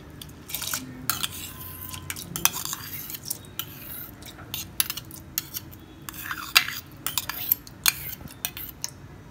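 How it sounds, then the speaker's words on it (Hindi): Soaked rice is added to milk in a pot for mango kheer and stirred, with a quick rhythmic series of sharp metallic spoon clinks and scrapes against the pot over a soft background. "अब हम इन चावल को दूध में ट्रांसफ़र करेंगे"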